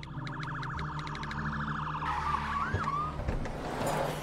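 An ambulance siren arrives in a tense scene, its rising and falling electronic wail sounding loud and continuous over a busy street background, shifting pitch sharply midway as the vehicle draws near.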